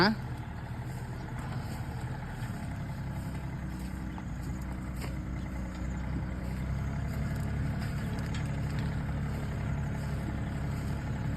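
A Yanmar AF230 tractor engine idles steadily while warming up, a continuous low mechanical rumble held close and constant throughout.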